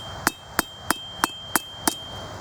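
Six crisp, evenly spaced hammer blows ring out on a blacksmith's bracelet being straightened, each strike bright and metallic, close up with a low hum beneath.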